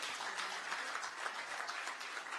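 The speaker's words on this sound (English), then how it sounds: "let's clap for him again." An audience claps for a prize winner at a challenge grand finale, a steady wash of many hands sustained throughout, heard at a moderate distance.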